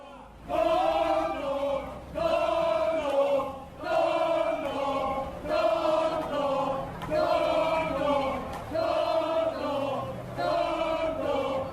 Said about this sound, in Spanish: Lo hizo entre gritos de tonto, tonto